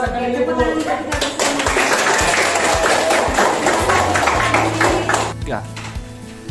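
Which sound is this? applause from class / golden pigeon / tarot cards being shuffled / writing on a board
applause from class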